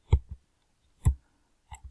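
A computer mouse clicks while working in R Studio: a few sharp, close clicks, one a quick double tap followed by single clicks spaced about a second apart, in a quiet room.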